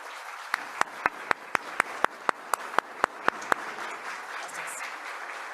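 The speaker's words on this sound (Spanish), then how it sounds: "Un aplauso para todas y todos ustedes." Applause from the audience at an award ceremony for compliance with the 2024 annual verification program, with a steady bed of many hands and a string of sharp, louder nearby claps spaced evenly across the first few seconds.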